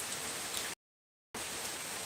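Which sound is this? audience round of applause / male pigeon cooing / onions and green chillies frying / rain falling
rain falling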